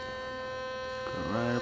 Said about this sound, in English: Got my little toothbrush here by Sonicare.